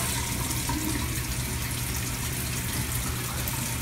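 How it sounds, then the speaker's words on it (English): Hot water runs steadily from a tap while makeup brushes are scrubbed with shampoo in the sink, a continuous close, even gush with no talking. "Use your brush to wet it and just like scrub."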